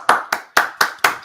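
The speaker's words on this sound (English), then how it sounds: "Got to do our own real claps for real." A small group claps in five sharp, evenly spaced bursts at a live talk event, each clap loud and close with a quick decay and no voices underneath.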